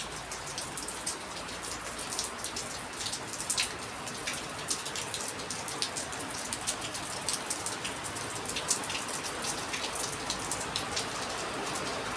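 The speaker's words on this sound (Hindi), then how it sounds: "कितनी तेज़ बारिश हो रही है, बहुत ही तेज़ बारिश हो रही है।" Heavy rain pours down steadily, a dense, even hiss of drops striking surfaces, with no voices and no pauses.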